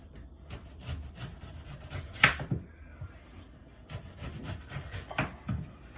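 A knife cuts slices from a fresh pineapple with rough, woody rubbing and sawing scrapes and a few sharper crunches, close and moderate in level.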